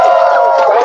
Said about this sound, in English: How about a round of applause for our friends who organized this today?